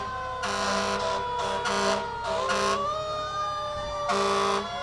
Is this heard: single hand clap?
no